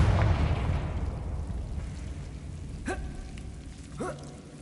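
A Confringo fire spell from the Hogwarts Legacy video game bursts with a loud, close boom at the start, then rumbles and decays into a crackling tail, followed by two thin, brief magical chimes.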